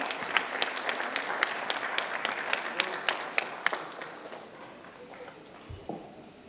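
Faint, scattered handclaps from an audience at a fundraising event, with separate sharp claps in a loose rhythm that thin out and die away after a few seconds.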